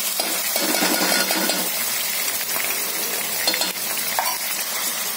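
Tomatoes going into a hot pan with onion and curry leaves, a loud steady sizzle with spoon scrapes and clinks of stirring close by.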